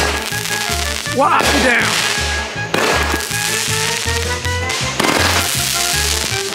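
Fireworks bursting in rapid succession outdoors from a multi-shot cake of 63 shots lasting two minutes, loud repeated pops and crackling bangs close by, with brief talk over them.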